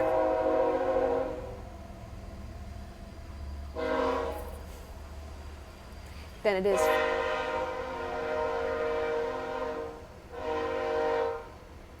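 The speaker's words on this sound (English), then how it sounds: "Hello, train." A train passes with several loud horn blasts, separated by quieter rumbling stretches, while a person talks under it.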